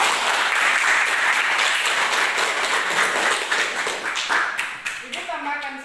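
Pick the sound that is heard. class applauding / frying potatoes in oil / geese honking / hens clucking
class applauding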